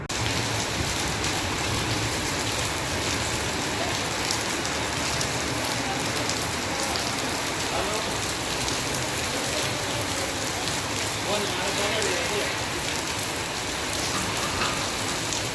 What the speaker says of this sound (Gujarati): આખા દિવસનો ધીમો ધીમો વરસાદ ચાલુ હતો